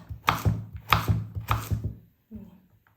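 A knife chops zucchini into small pieces on a board, with three quick bursts of crisp, rhythmic strikes close up and a pause between each, followed by one softer cut.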